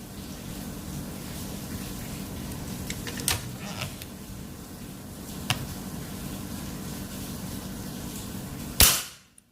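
A sharp crack of a Predator folding air rifle shot rings out near the end over steady background hiss, with a few fainter clicks earlier.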